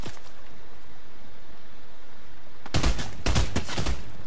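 A burst of gunfire from a FAMAS rifle in a shooter video game: after near silence, a few sharp loud shots ring out in quick succession near the end.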